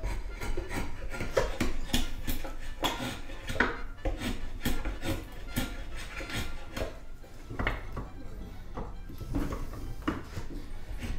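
A foot-operated lathe at a living history museum turns a piece of wood, giving repeated rhythmic scraping and rasping strokes at a moderate, fairly quiet level, with faint knocks from the treadle mechanism.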